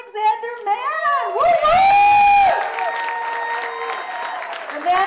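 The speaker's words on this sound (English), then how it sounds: "Ladies and gentlemen, big round of applause for Alexander Mann." An audience at a film festival awards evening applauds and cheers for Alexander Mann, loud and sustained, with whoops and shouting voices rising over the clapping and a long high whoop near the middle.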